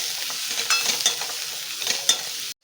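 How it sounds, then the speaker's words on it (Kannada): Ground sprouted horse gram fries in a pan for saaru, with a steady close sizzle and scraping stirring strokes over it. No one speaks, and the sound stops abruptly at the end. "ಇದು ಸ್ವಲ್ಪ ಫ್ರೈ ಮಾಡ್ಕೊಳ್ಳೋಣ."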